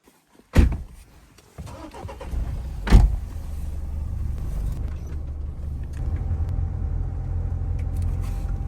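A car parked by a road on a mushroom-picking outing: two sharp thumps like doors closing, then the engine starts and settles into a steady, close rumble that holds for several seconds, with no talking.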